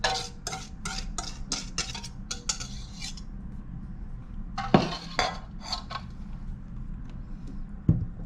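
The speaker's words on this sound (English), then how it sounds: "Or you can do this one with your fork and your spoon at home, actually. So this one, I'm going to mix this all together here." A fork and spoon clink and scrape around a bowl while chocolate chip muffin batter is mixed by hand, with quick rhythmic taps in bursts, a pause, then a few more strokes and clanks.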